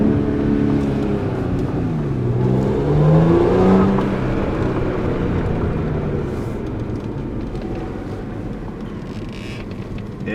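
A salvage Audi S5 on a test drive accelerates hard with paddle shifters, its engine note rising and falling through the gears under a steady roar of road and cabin noise.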